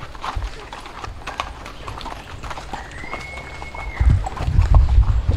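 Steady clip-clop of horse hooves in Puerto Rico, close and rhythmic, with a person talking over it and a louder rumble near the end.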